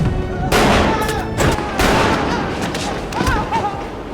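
Gunfire from the film Joker, a revolver firing repeated shots into a man's leg and body, sounding as loud, close bursts mixed with the film's music and effects.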